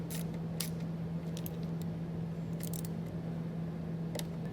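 A socket wrench tightens a nut on a battery disconnect fitting for a 2017 Ford Focus, faint ratcheting clicks in short bursts over a steady low hum.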